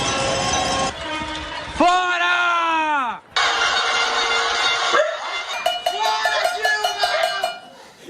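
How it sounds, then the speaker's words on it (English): Pot-banging protest in São Paulo, with metal clanking and car horns blaring in long overlapping blasts from windows and streets. Voices shout through the loud, dense noise. "People were banging their pots,"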